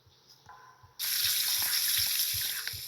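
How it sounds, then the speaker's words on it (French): A water tap in a video game is turned on after a quiet moment with faint background tones, then gushes steadily and loudly as a continuous hiss, with soft periodic thumps underneath. "Et il y a un robinet."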